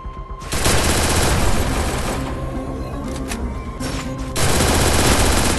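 Rapid bursts of MP40 submachine gun fire from a video game, loud sustained automatic rattling that breaks briefly around the middle and then resumes.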